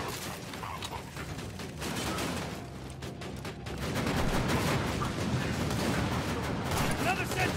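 Sentry turret gunfire in Borderlands 2, dense rapid bursts of automatic shots rattling continuously amid game combat noise, growing louder in the second half, with a voice talking over it.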